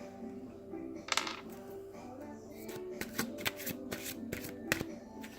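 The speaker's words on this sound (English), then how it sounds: "This is Archangel Michael Oracle Cards by Doreen Virtue" A deck of Archangel Michael oracle cards is shuffled by hand, giving a close, steady riffling and flicking patter with a few sharper card snaps in the second half, and no voice over it.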